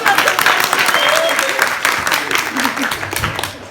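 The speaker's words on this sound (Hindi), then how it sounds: "ताली बजा दो इसके लिए।" Audience applause at a live mono-act stage play, a dense steady patter of clapping from a seated crowd lasting throughout, slightly thinning toward the end.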